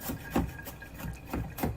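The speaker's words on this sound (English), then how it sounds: "I just felt like chopping today" Garlic chopped with a knife on a cutting board: a few sharp, close knocks in an irregular rhythm, with no talking.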